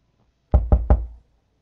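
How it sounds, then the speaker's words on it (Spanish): Three quick, hollow knocks on an office door sound close and loud in an even rhythm, followed by silence. "Llamaron a la puerta de la oficina, pero a Day parece no importarle."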